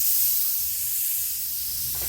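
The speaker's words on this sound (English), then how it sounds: "we're taking advantage of this warm day, and we're spraying this outside" Aerosol spray paint hissing steadily and close as a fireplace mantel is coated outdoors on a warm day, one continuous burst with no talk.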